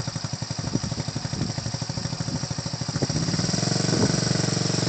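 Motorcycle engine idling in gear with a steady, regular pulse, then rising in level as a little throttle is applied during a first practice ride, close and continuous with no talk.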